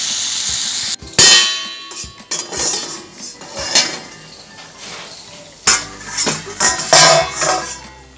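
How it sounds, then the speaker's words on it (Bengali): A pot of khichuri set on a home stove, with loud metallic clangs and clinks of pot and utensils in irregular bursts, separated by brief pauses and a low background hum. "খিচুড়িটাও বসিয়ে দিই।"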